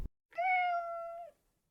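One drawn-out meow from a house cat, close and clear, lasting about a second against near silence.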